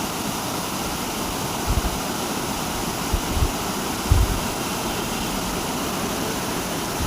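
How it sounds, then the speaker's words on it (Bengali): Water current rushes in a steady, broadband roar under a bridge in Pandu village near Mayapur, close and continuous, with a few faint knocks and no talking. "জলের স্রোতে ওখানে ঢেউয়ের মতো জল বেরিয়ে যাচ্ছে"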